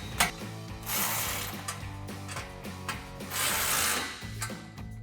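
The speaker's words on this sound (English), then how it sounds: "we can grab a 14mm socket to tighten down the two nuts on our hanger clamp" A 14mm socket on a ratchet clicks rapidly while tightening exhaust hanger clamp nuts on a 2015-2020 F-150 5.0L V8. Bursts of close, loud ratcheting come in quick strokes with short pauses between them.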